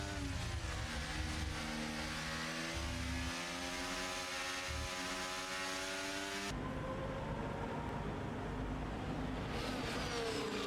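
A race car engine heard from an onboard camera during a race in Mexico, a loud, continuous droning whine whose pitch climbs and shifts with the revs, with no talking.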